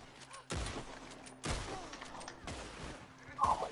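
Video game gunfire in short, sharp bursts about once a second, faint and low in level, with a voice talking among the shots.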